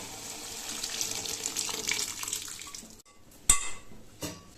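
Boiled dal poured into a cooking pan makes a wet, splashing pour for about three seconds, followed by a sharp clink of a utensil against the pan and a smaller knock, close by with no talking.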